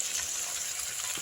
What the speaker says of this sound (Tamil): சாம்பார் வெங்காயம் நல்லா வதங்கட்டும்.